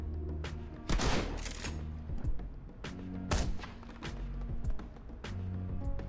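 Video game gunfire in Shadowrun Hong Kong crackles in several bursts of rapid shots, with separate single cracks between volleys, quite faint and distant under a low hum, with no talking.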